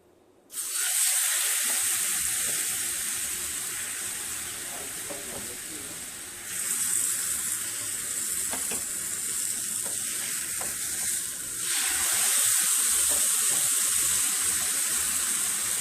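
A tortilla frying in tomato sauce over a thin film of lard in a pan, making a steady close sizzle that swells louder in two later surges, with faint clatter underneath and no speech.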